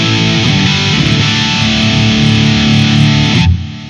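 Distorted Gibson electric guitar chords through a Marshall JCM 2000 amp ring loud and sustained with a touch of reverb, then cut off abruptly near the end.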